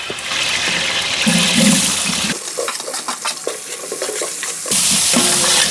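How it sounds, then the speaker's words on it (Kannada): Chopped onions frying in oil with bay leaf, cinnamon, cloves and cardamom for chicken biryani, loud close sizzling with vigorous stirring scrapes, the sizzle dropping sharply for a couple of seconds before surging back. "ಇದಕ್ಕೆ ಈರುಳ್ಳಿ ತುಂಬ ಚೆನ್ನಾಗಿ ಫ್ರೈ ಆಗಬೇಕು"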